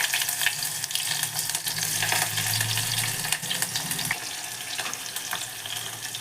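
Tempering seeds frying in oil in a pan while cooking a fenugreek-leaf and moong dal dish, a close, steady crackling sizzle with small pops and a brief low stirring rumble, no talking.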